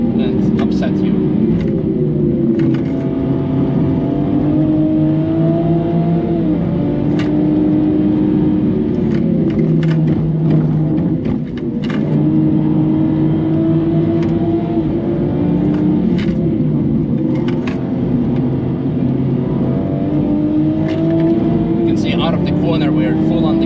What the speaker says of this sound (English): We're full on the gas and the car is just like, nope, we are kicking in traction control